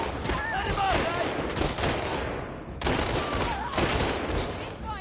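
Sustained gunfire in The Last of Us Part 2, a loud, continuous fusillade of overlapping shots and battle noise with brief shouted voices, broken by one short pause midway.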